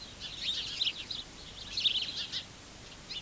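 Bright chirps in quick clusters, several house sparrows twittering at a moderate distance with short pauses between bursts.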